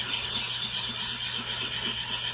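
A stone rubbed back and forth across a 220 grit diamond sharpening plate to break it in, giving a steady, close, continuous gritty rasping with a faint regular stroke rhythm and no talk.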